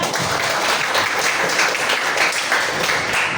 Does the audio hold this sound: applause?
yes